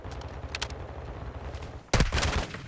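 Gunfire in Call of Duty: Modern Warfare II, a few sharp bursts early on and then a loud, dense volley near the end over a steady rumbling game background.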